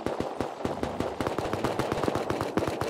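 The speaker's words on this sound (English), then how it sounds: "heard some gunshots down the hill from our base" Rapid gunfire in the game Rust crackles in dense bursts, with many shots overlapping in a continuous, loud barrage that sounds fairly close.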